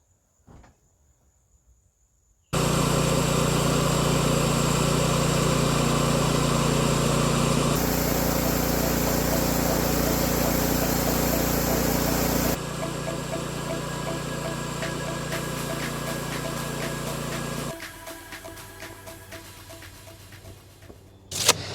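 A sawmill blade cuts through timber for a bridge build, starting abruptly as a loud, steady roar that holds for about fifteen seconds with shifts in pitch, then fades in strength near the end.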